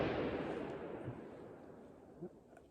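A single gunshot booms out at the very start in Oregon's Tillamook State Forest, then its deep rumble rolls and fades away over a couple of seconds, with nobody talking.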